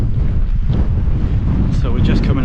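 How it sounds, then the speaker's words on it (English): Strong wind buffets a coastal clifftop path near Lulworth Cove on the Jurassic Coast, a loud low rumble blasting the microphone continuously, with faint voices at the end. "Very windy, folks."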